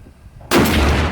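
A single .50 caliber rifle shot fired outdoors: one sudden, very loud blast that cuts in abruptly after quiet, then a sustained booming roar and echo rolling on for the rest of the moment.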